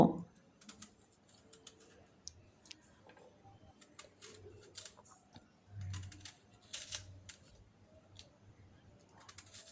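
A knife slices peeled raw mangoes into thin pieces, giving sparse, sharp taps and clicks against a cutting surface in a quiet room, with faint low murmurs in places.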